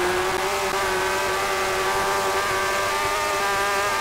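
Suzuki superbike engine in the TT Superbikes racing game, a loud continuous high-pitched whine holding nearly steady, close and alone without talk.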